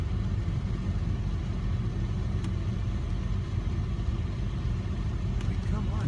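A car engine idles and rumbles steadily nearby in snowy, rainy weather, a low continuous drone with no speech over it.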